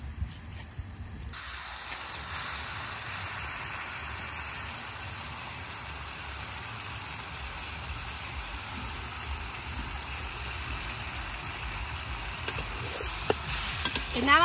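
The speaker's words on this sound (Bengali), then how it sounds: "এখন তেলে এই যে মাছ দিয়ে দেই" Fresh river fish of several kinds frying in spiced oil in a village kitchen, a steady close sizzle running throughout, with occasional stirring clinks and scrapes near the end.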